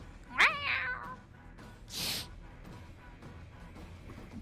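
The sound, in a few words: person imitating cat meows and hisses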